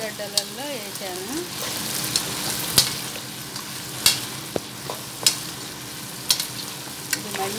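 Mutton pieces with onions frying in oil in a pot, a close sizzle broken by repeated scraping stirs and clinks, with a faint murmur of speech early on.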